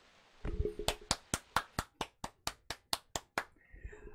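About a dozen slow, evenly spaced hand claps ring out one at a time, loud and close, with no other sound around them.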